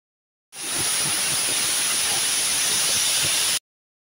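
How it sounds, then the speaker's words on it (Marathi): A pressure cooker cooking rice for veg pulao releases steam in a loud, continuous hiss with a high whistling tone that starts abruptly, holds for about three seconds and stops suddenly. "कुकरला वरतून झाकण लावून 2 शिट्ट्या काढून घ्यायच्या."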